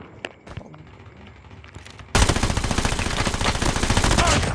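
Call of Duty gameplay gunfire: a few scattered shots and game sounds, then a sudden burst of sustained rapid automatic fire that continues loud and dense to the end.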